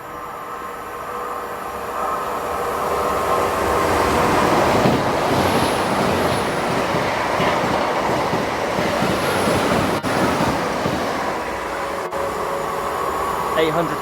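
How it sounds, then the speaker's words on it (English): An IET passenger train on the Bristol Temple Meads to London Paddington service passes through Keynsham station, a loud sustained rumbling roar that builds and then holds steady while someone speaks over it. "Coming through now is 1 Alpha 13 on the Bristol Temple Meads to London Paddington service. Formed of another IET."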